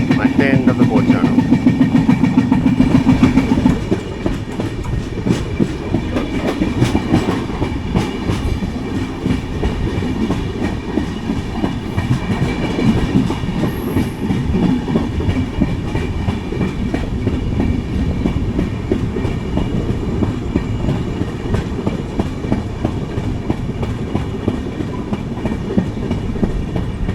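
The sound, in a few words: train wheel with flat spot clattering, Kochuveli Humsafar Express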